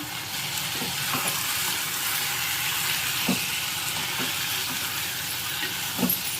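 Brinjal and mango curry with chilli powder and tomato puree frying in a pan, a steady broadband sizzle with a few soft scraping stirs spaced through it, close and continuous with no talking.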